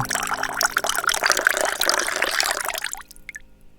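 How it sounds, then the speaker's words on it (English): A drink being poured, a steady liquid stream with wet splashing that fills the first three seconds, then stops abruptly, leaving a few faint drips, calm meditation-style sound effect with no talking. "You remain transfixed as your favourite drink is uncorked and poured for you"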